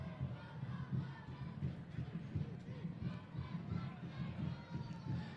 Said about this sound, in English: Crowd trying to fire things up.